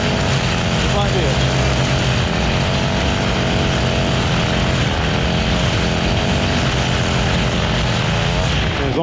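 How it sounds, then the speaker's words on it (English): A gas weed eater runs continuously while trimming, a loud, close, buzzing two-stroke engine drone with slight pitch wavers that never lets up, and someone talks over it. "With a weed eater, you don't want to be hovering, you want to be moving."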